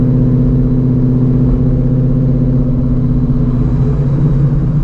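Supercharged Shelby GT350 with an ESS G3R blower revving hard, a loud, steady engine roar with rapid pulsing firing beats held throughout, no talk.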